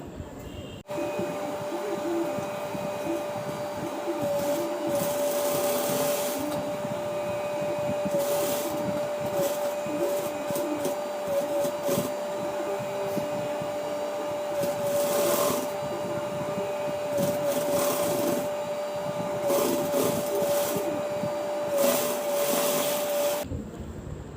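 A sewing machine stitches the neck of a chudidar, a steady mechanical whir with rapid clatter that surges and pauses in bursts, running close and continuous for most of the stretch.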